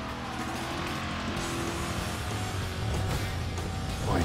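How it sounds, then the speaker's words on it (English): Car engine in Burnout Paradise Remastered on Xbox One, a steady loud growl that swells slightly toward the end, with no talk over it. "you can hear the grunt of that engine"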